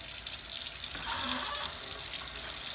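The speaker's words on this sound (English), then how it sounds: "Turn on the water." Water running steadily from a sink tap for handwashing, a continuous close splashing hiss with no talk.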